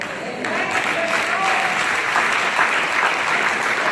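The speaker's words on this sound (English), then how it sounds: "all of you that are applauding right now" A church congregation at a worship service applauds steadily for several seconds, a dense, even wash of clapping from many hands in a reverberant room.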